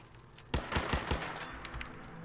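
Rapid burst of pistol gunfire in Fallout 4's Nuka-World, roughly four or five sharp, close shots in quick succession, then a lingering reverberant tail.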